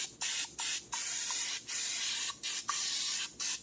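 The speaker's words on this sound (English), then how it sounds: "Little butter spray." Butter spray misted over a cracker-topped jalapeño popper chicken casserole: about eight short, crisp aerosol hisses in an uneven rhythm, each a fraction of a second long, close and clear with brief gaps between.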